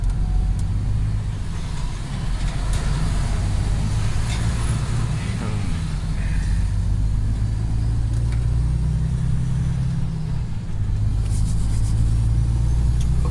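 A car drives along a road near Cradock, South Africa, its steady engine hum and tyre roar running throughout at a constant, fairly loud level, with a slight swell in the engine note partway through.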